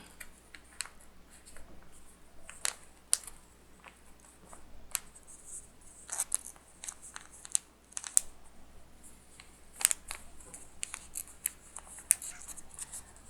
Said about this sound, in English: now with our fabric scissors, we're going to cut the batting